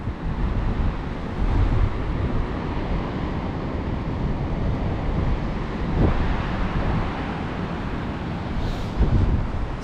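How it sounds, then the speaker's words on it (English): Ocean waves break at Rocky Beach in Port Macquarie, Australia, as a steady, loud wash of surf that swells in places, mixed with wind buffeting the microphone throughout. "Wow, look at the waves."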